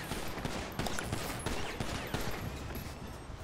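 Gunfire in the GTA 5 video game: a rapid series of sharp shots, roughly a dozen bursts in quick irregular succession, fairly close and steady in level.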